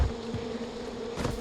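Bees buzz around beehives in the Far Cry 4 video game, a steady close drone that swells briefly near the end.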